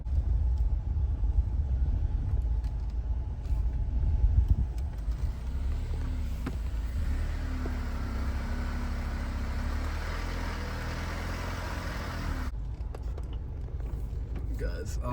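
Car backing up slowly along a remote cliff-top track in rural Vermont, a steady low engine rumble with faint mechanical whine and some crunching, fairly close and continuous throughout.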